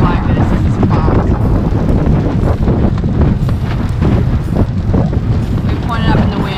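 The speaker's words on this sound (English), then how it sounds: "The wind's picked up. It's sort of gusting" Strong gusting wind batters a sailboat, roaring and buffeting the microphone continuously with heavy low rumble, while people talk underneath.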